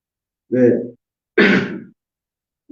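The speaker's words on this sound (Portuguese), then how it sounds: "ainda peço perdão que eu ainda estou com um resquício de tosse" A man clears his throat twice in quick succession, close and fairly loud, with short rough bursts separated by silence, as a lingering cough interrupts a spoken talk on peace.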